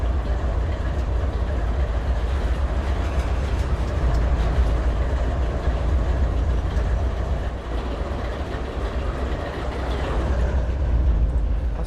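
Railroad sounds from the Trainz Railroad Simulator 2019 game, with custom slack action: a continuous heavy rumble of a rolling train with low clanking, loud and steady throughout.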